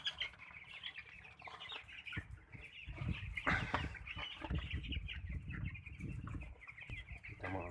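Broiler chickens in the ground-floor level of a coop make continuous clucking and chattering that rises and falls, with occasional wing flapping, heard close and fairly faint with no talk over it.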